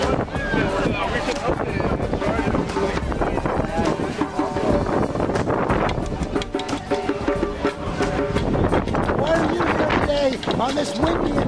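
Strong wind buffets the microphone in a continuous roar, gusting and rumbling throughout while people talk and shout loudly over it.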